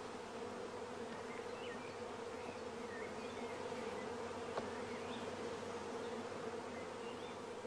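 Honeybees buzz steadily around a swarm box as frames of pollen, water and food are lowered among them, a dense continuous hum with no voices.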